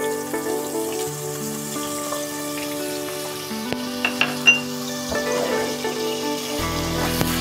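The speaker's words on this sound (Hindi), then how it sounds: "तेल के साथ लहसुन अदरक को फ्राई करेंगे 2 मिनट तक" Ginger garlic paste fries in half a cup of hot oil with a steady, close sizzle and a few crackling pops, with no talking.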